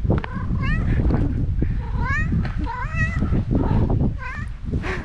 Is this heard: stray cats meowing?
yes